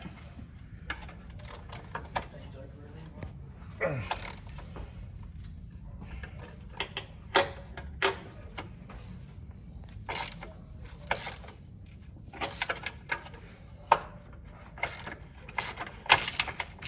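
A 17mm spanner worked on the subframe bolts of a car, giving irregular metallic clicks and ratcheting taps over a low background hum, close by and moderately loud.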